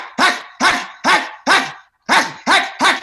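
Loud, close dog barks in a steady rhythm, seven forceful woofs with a brief gap in the middle.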